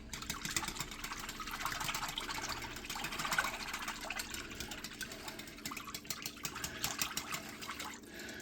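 Chicken cobbler mixture being whisked in a bowl, a steady wet sloshing and stirring that runs continuously at moderate level with no talk.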